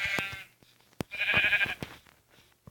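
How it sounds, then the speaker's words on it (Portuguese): Two bursts of sheep bleating from the video game Minecraft, Pocket Edition, in a hardcore world, with a few sharp clicks and thumps between the wavering calls. "Bom, vamos lá matar aquelas ovelhas."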